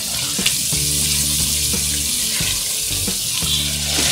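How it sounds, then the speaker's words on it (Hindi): Tomato paste frying for aloo gosht in a pan, a loud continuous hiss and sizzle with a few stirring knocks, no talking. "इसको हम तकरीबन 2 मिनट तक फ्राई करेंगे।"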